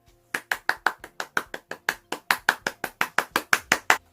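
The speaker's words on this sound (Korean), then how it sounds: "우리 모두 축하의 박수를 칩시다." A small group of children at a church service claps together in a steady, fairly quick rhythm, about twenty sharp claps close by, with no talking.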